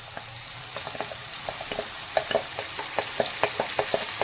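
Boiled green mung dal goes into fried onion and tomato in a pan, setting off a loud, constant sizzle with rapid crackling pops and occasional stirring scrapes, nearby and with no talk.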